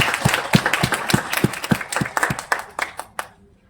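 An audience claps in a short burst of applause at an award interview, quick irregular hand claps that thin out and fade to silence within a few seconds.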